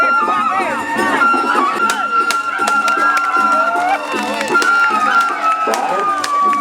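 A crowd of supporters at a Peresean stick-fighting bout in Lombok roars and cheers continuously, with scattered clapping and sharp claps cutting through the steady din and a whistle-like tone running above it.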